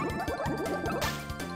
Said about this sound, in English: that thing's using water magic already